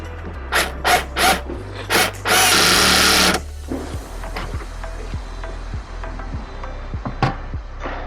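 A power tool tightens the hose clamp on an intake pipe for a 2020 Toyota Supra MST intake install, several quick ratcheting bursts, then a sustained whir of about a second, followed by scattered clicks and taps of parts being handled.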